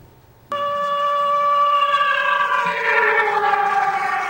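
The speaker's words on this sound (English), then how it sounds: "every time the sirens sound." A rocket warning siren cuts in abruptly after a short quiet moment, a loud steady wailing tone that rises slightly in pitch and holds, sounding alone with no talk.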